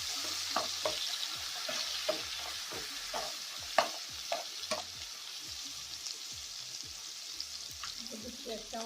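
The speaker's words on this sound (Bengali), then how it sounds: "মশলাটা যাতে পড়ে না যায় সেখানে দিচ্ছি 1 চামচের মতো জল" Ginger-chilli paste with ground turmeric, coriander and cumin frying in a pan after a splash of water, a soft hiss under a run of quick, close scraping stir strokes, fairly quiet throughout.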